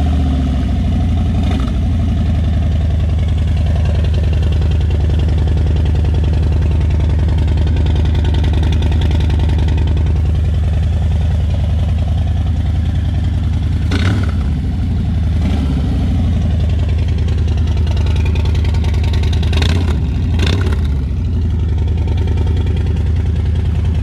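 A 2021 Harley-Davidson Low Rider S fitted with a Sawicki Speed Shop exhaust idles close by with a deep, steady, loping rumble, punctuated by a few short throttle blips, and no one speaks.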